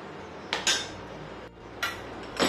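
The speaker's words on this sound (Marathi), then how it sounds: "आता आपण एका बाउल मध्ये काढून घेऊ ही खीर." A spoon knocks against a pot while varai kheer is served into a bowl, giving a few separate metallic clinks up close, spaced irregularly over a quiet background.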